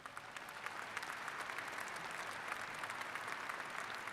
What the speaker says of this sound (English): Let's applaud these leaders.